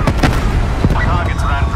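Video game gunfire during a first-person shooter match, a rapid run of sharp, loud bursts and booms packed close together, with game voices calling out over the shooting.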